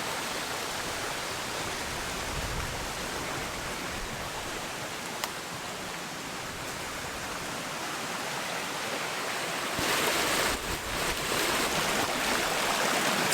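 A small river flows in a steady, broadband rushing wash that continues without pause, growing slightly louder and brighter near the end, with no voices.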